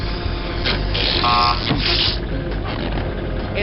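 An electronic alarm in the Spy Fox 2 video game sounds as a steady, harsh buzzing tone that carries on without a break and with no talk over it.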